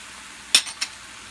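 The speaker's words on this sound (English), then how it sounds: "So saute this for just maybe a minute, just to cook the flour a little bit" Mushrooms and flour cook in a pan over quiet low sizzling, broken by two quick, bright scrapes of a utensil stirring against the pan.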